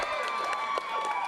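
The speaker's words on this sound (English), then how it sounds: "I think we need a round of applause for the shirt." A studio audience at a late-night comedy show gives a steady round of applause that runs at an even level throughout, with a few sharper claps standing out over the crowd.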